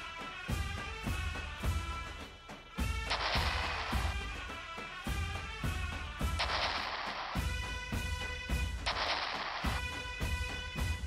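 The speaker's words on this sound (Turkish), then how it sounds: "Top atışlarıyla savaş başladı." Naval cannon fire from a sea battle, the Battle of Djerba between Ottoman and Crusader fleets, booms in loud, evenly spaced repeated blasts set against a steady, rhythmic, tonal backdrop.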